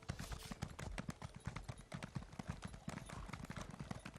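Horse hooves clip-clop in a quick, steady galloping rhythm in The Elder Scrolls Online, close and distinct, with a possible faint voice underneath.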